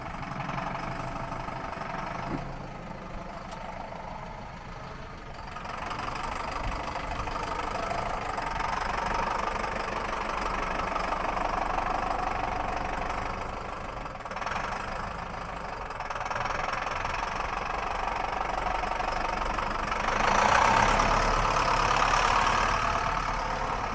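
A Zetor Proxima GP tractor engine idles with a steady low knocking chug, close by and continuous, with no talking.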